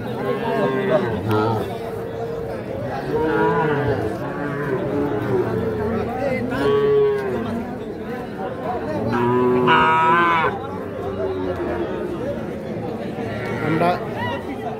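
Sahiwal bull calves and other cattle moo at Ambari cattle market. Several drawn-out moos rise over a steady crowd murmur and chatter, with the louder calls near the start, middle and end.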